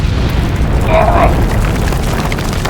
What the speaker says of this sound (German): den där jävla kanonen igen